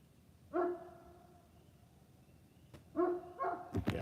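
A dog barks outdoors, heard at a distance over a faint background hiss: a single bark, a pause, then a quick run of two or three more barks near the end.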